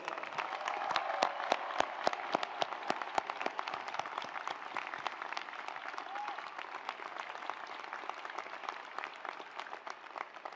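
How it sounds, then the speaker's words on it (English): A large commencement audience applauds steadily, a dense wash of clapping with a few sharp, close claps standing out at the start before settling into an even roar. "Let's give them another round of applause."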